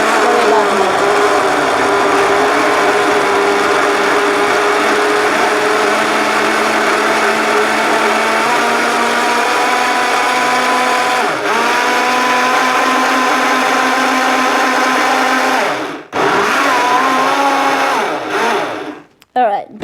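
A countertop blender whirs loudly and continuously up close while making a strawberry smoothie, its high motor whine holding steady and dipping briefly near the end before cutting off.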